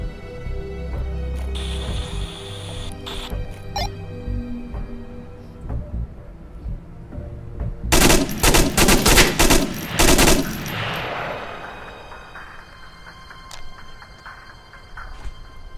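Sustained automatic bursts from an M249 SAW light machine gun in a military shooter video game, a dense rattling volley in the middle over a constant background of distant battle noise.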